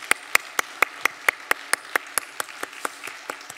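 Sharp claps land in a steady, even rhythm, about sixteen beats in a row, a church congregation clapping together in time during a Sunday service.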